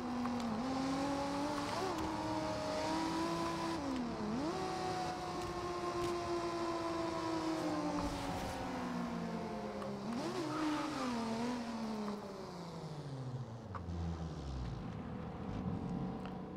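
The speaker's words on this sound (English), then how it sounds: "So much noise coming from it. The turbo and blow off valve and everything." BMW E36 M3 in Forza Horizon 2 with a turbo and blow-off valve: a loud, continuous engine drone that rises and falls through repeated gear shifts, with short dips as the revs drop.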